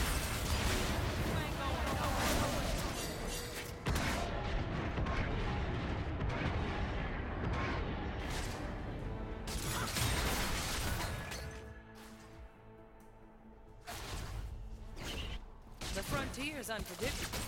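Ranged gunfire from the champion Senna in the mobile game League of Legends: Wild Rift, dense and continuous alongside game effects and voice lines throughout, with a brief quieter lull near the end.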